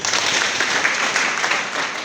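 An audience at a school board and parents' meeting applauds, a dense, even wash of many hands clapping together, steady and fairly loud throughout the short burst, with no voices over it.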